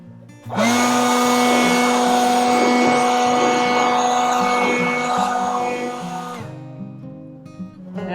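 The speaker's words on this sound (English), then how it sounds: "We'll try the blower, see what happens." A bee blower runs loud and steady for about six seconds, its motor whine carrying over a rushing blast of air as it clears bees off honey frames during an apiary harvest, then cuts off abruptly with no talk.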